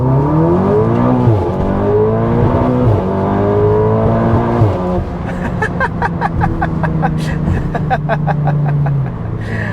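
A turbocharged car engine revs hard under full acceleration and climbs through rising pitch, then settles into a steady roar with rapid pulsing bursts, loud and close throughout.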